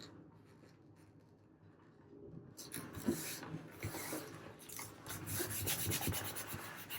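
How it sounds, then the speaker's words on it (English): Glued book-page paper being burnished onto a bookmark, quiet rubbing and scraping strokes close by, growing busier and more textured after a faint start, with no talking. "Going to burnish it on there."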